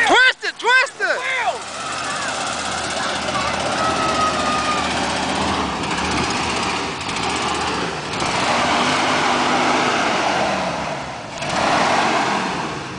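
A mud truck called Cookie Monster churns in a deep mud hole, its engine roaring steadily with surging revs and wheel spin, loud and close, with people shouting over it.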